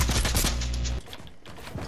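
Gunfire in the video game Fortnite opens with a dense, loud volley of rapid shots for about a second, then drops to fainter, scattered shots. No one talks.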